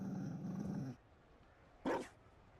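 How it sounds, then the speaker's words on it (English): A Mabari war dog in Dragon Age Inquisition gives a low growl lasting about a second, then after a pause lets out one sharp, loud bark, close by and with no talking. "Finally, there's a Mabari in this game."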